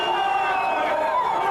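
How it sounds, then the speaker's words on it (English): A rugby league crowd at a Keighley versus Batley match gives off a steady, swelling roar of raised voices, a continuous mass of noise with no single voice standing out. "The crowd is sensing the occasion, then they're beginning to raise the voices"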